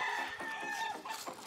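White Kelso brood roosters on a farm cluck in a dense, close cluster of short calls, with a crowing-like call overlapping, continuous through the brief moment.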